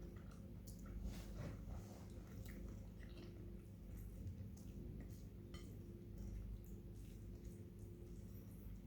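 Close biting and steady chewing of vinegar-soured dried galunggong fish at a breakfast table, continuing through the whole stretch with occasional light clinks of dishes and cutlery, with no talking.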